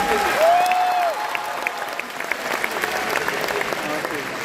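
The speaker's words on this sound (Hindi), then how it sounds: "मुफ्ती साहब के लिए भरपूर तालियां एक बार फिर से" Audience applause for Mufti sahib at a Pakistan conference event, steady dense clapping through the clip, opening with a brief tonal whistle-like sound, with a voice faintly audible.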